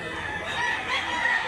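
A nine-month-old stag, a young gamecock rooster, crows once in a long, hoarse, sustained call at close range, with steady outdoor background noise and no talk.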